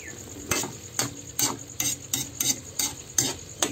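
Ground pepper-seasoned food frying in a pan, stirred with a utensil that scrapes and clinks in about eight regular strokes over steady close-up sizzling.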